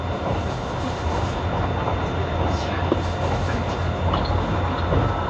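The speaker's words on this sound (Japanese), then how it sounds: "This is the Kintetsu Limited Express Urban Liner bound for 大阪難波。" Aboard a Kintetsu Urban Liner limited express running through Mie Prefecture, a steady rumble and rolling rail noise continue without a break, loud and close, as heard from inside the carriage.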